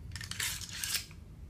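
A nickel boron bolt carrier from an AAC MPW 300 Blackout rifle is popped open, giving a quick cluster of close metallic clicks and a short scraping slide, heard alone.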